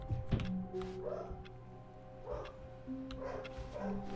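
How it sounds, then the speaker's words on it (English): A dog lets out a few soft, muffled woofs and yips over a quiet, steady background hum, with short gaps between the barks. "shut up, dog. Stop ruining my immersion."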